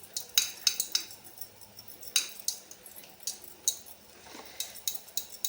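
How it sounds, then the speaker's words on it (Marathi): Wheat flour is shaken quickly through a sieve into boiling gravy for Khandeshi shev bhaji, making a close series of quick, sharp taps and light clinks in irregular bursts with no talking. "आपल्याला हे गाळणी घ्यायची आपली गहू गाळायची असते ती आणि त्यामध्ये ते पीठ घालून आपल्याला फक्त असं पटापट पटापट हात फिरवायचं आहे"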